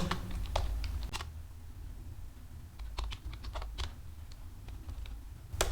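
Rapid, uneven clicking of keys on a computer keyboard while HTML code is typed, with bursts of keystrokes separated by short pauses, close and fairly quiet over a low background hum.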